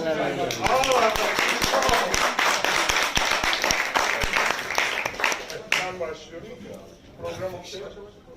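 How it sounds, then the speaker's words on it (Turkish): An audience at a poetry performance claps, with sharp, distinct hand claps that start dense and loud, then thin out and fade toward the end. A voice talks over the clapping. "Kocaman bir alkış."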